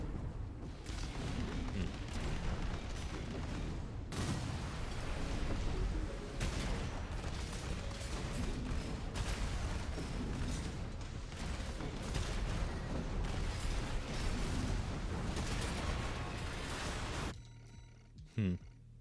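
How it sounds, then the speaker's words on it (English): Missiles explode in the Armored Core Requiem video game, a dense, continuous barrage of loud booms and blasts that goes on for about seventeen seconds before it cuts off into a short quieter stretch with a few last thumps. "these are definitely missiles"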